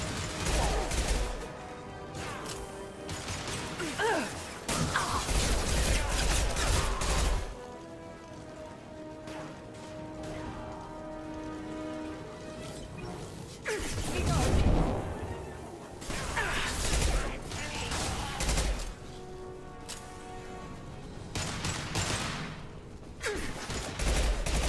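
Gunfire in the video game Mass Effect 2, bursts of rapid shots and crashing impacts in clusters separated by quieter stretches, with a voice heard at moments.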